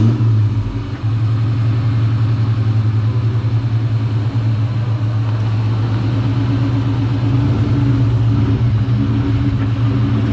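A Ford Cobra tenth anniversary car rolls slowly up onto ramps, its engine a steady close low rumble with slight throttle variations throughout.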